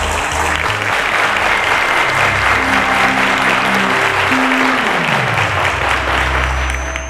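Studio audience applause for a quiz contestant on a televised quiz show, a steady, loud wash of clapping sustained throughout, with faint background music tones underneath.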